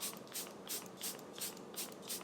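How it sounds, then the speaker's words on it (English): Charlotte Tilbury Airbrush Flawless Setting Spray hisses from a pump bottle in six quick, evenly spaced bursts, close and clear against a quiet room. "So this is the Airbrush Flawless Setting Spray."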